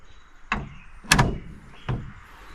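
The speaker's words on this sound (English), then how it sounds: "Look how easy this door closes though." A 1965 Chevy Corvair car door closing, three sharp thumps spaced about half a second apart, with the middle one loudest and slightly rattling, close-up with no talking.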